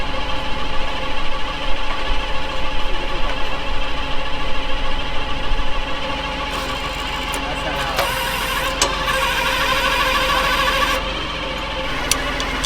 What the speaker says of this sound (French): Et du coup ça fait caler le tracteur.